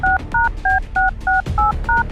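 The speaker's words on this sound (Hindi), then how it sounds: "जरा अपने फोन से कॉल लगाएंगे इन्हें आप" A phone is dialed with seven crisp, evenly spaced touch-tone beeps. Each tone is loud, close and sharp, with a low background hum between them.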